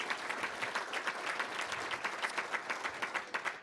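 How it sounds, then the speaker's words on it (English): An audience claps at a breakfast event, a short burst of steady, fairly faint applause from a modest crowd with no voices over it. "And so maybe a quick applause for Peter and Joan."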